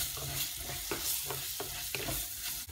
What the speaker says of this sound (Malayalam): അത് ഇട്ട് കൊടുത്ത് നന്നായിട്ട് ഇളക്കുക